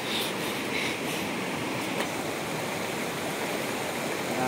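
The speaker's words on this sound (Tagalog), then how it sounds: "Medyo mataas pala yung tubig." Stream water rushing steadily during a motorbike river crossing, a dense, continuous broadband wash heard close with no voices over it.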